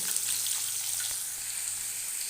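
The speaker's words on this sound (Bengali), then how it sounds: "মাছগুলো লাল লাল করে ভেজে ফিরে আসছে" Pieces of rohu fish fry in hot oil in a pan, giving a steady, even sizzle and hiss throughout at moderate loudness, with no talking.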